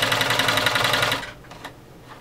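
An Omega 307 sewing machine stitches a leather sample in a fast, even mechanical chatter for just over a second, then stops, leaving a few faint clicks.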